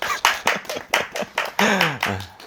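A few people clap in quick, evenly spaced bursts, fairly close and loud, with voices mixed in among the claps.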